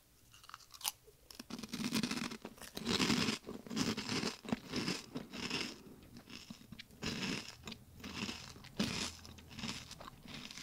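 Close, crisp crunching of Dutch ham and cheese flavored potato chips being chewed, a dense run of repeated bites and crackly chews with short pauses, no talking.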